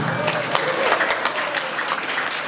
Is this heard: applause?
yes